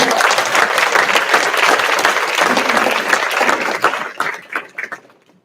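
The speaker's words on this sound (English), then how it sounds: "please give them a round of applause" A reception audience applauds longshoremen in the room, a dense, loud roll of clapping that holds steady for several seconds, then thins into scattered claps and fades out.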